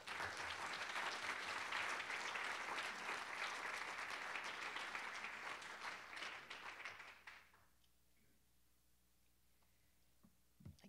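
Audience applause welcoming a professor before an after-dinner history lecture, a dense, loud burst of clapping from a crowd that fades out after about seven seconds into quiet room tone.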